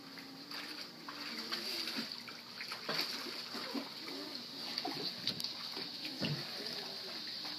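Children swimming in water, with soft continuous splashing and light trickling throughout, fairly quiet and steady, with faint background voices.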